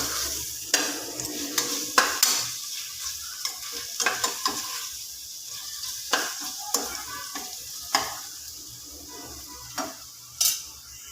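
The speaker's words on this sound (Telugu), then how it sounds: "ఇప్పుడు ఒకసారి కలుపుకుందాము." Mutton fry sizzling in a pan as a spoon stirs it, with a steady frying hiss broken by a run of sharp scraping clicks against the metal, close and fairly loud, no voices.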